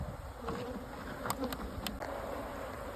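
Honeybees buzzing steadily around an opened hive during a beekeeping inspection, a close continuous drone with individual bees passing near.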